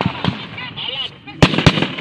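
Two sharp, loud gunshot cracks from a sniper in a firefight between NPA rebels and military soldiers in Laligan, Bukidnon, ringing out about a second apart over a background of shouting voices.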